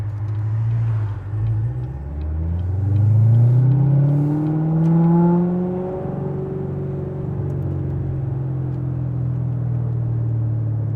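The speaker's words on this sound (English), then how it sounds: "Get to listen to that exhaust note one more time here." A 2017 Corvette Z06 revved in first gear, its exhaust rising from a deep idle rumble to a loud climbing roar, then falling back to a steady burble, heard up close with no talk.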